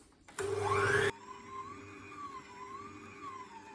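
A stand mixer runs briefly on pasta frolla dough for a crostata, a loud steady whirring burst of under a second that cuts off sharply, leaving a quiet room hum behind.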